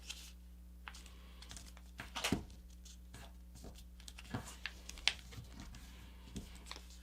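Paper is folded and creased into a paper airplane, giving soft crinkles and a few sharper taps and rubs, quiet and close with pauses between them.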